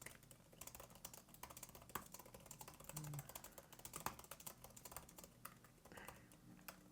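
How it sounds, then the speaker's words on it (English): Steady, rapid key clicks from typing on a MacBook Neo laptop keyboard, quiet and close, with irregular bursts and brief pauses throughout. "so let's just go ahead, do a quick typing test"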